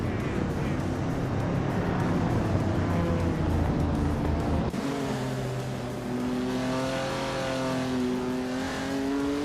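Race cars roar past during a race, a loud engine drone giving way to a rising, high-pitched whine as one accelerates hard, with no talking.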